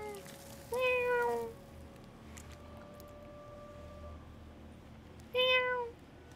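A cat in the video game Stray lets out two short, close meows separated by several seconds of quiet ambient background.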